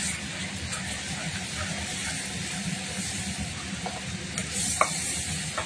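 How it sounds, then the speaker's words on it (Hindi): Kasuri methi, dried fenugreek, frying in hot oil in a home kitchen, a steady close sizzle with occasional stirring scrapes and a faint tap. "कसूरी मेथी, जो तेल में ही फ्राई होगी तो अच्छा टेस्ट देगी"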